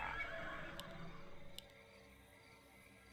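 A horse neighs in a Warcraft-style strategy video game, a faint whinny opening the clip over a low murmur of game ambience, with a few soft clicks scattered after it.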